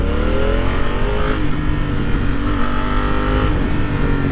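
A Honda Africa Twin motorcycle with push-button automatic shifting accelerates with loud, steady engine roar, and its pitch shifts as it moves through quick gear changes.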